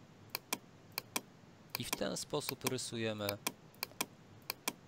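Computer keyboard keys pressed while drawing polygons in QGIS, sharp separate clicks spaced irregularly, near and clear, with someone speaking briefly in the middle.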